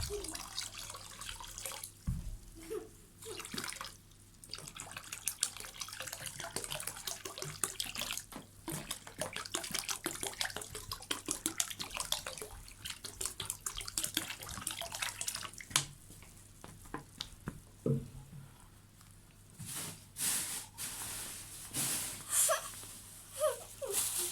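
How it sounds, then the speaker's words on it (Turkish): Vinegar is poured for pickling peppers, a faint, continuous liquid gush and trickle lasting over twenty seconds with small splashes and soft clinks, with no talking. "Sirkemizi döküyoruz."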